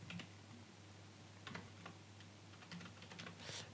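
Light typing on a computer keyboard while entering a looping expression in motion graphics software, soft scattered key clicks over a steady low hum, fairly faint and close, no talking.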